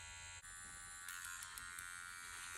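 A Neebol wireless tattoo machine set to 6 volts starts up and runs with a high, steady electric buzz, close and continuous, with a slight change in pitch just after it starts.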